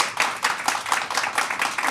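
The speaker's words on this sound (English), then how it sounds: "How about a round of applause for our guests tonight?" Brisk, dense clapping from a community event audience fills two seconds at moderate volume, with no voices on top.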